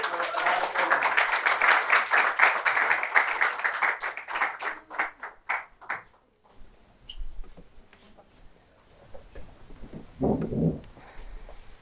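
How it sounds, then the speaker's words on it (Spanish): An audience at a book presentation applauds performers coming onto the stage. Dense, lively clapping fills the first six seconds and then thins to a few scattered claps, followed by quiet room noise and a brief voice. "Así que un aplauso para ellos."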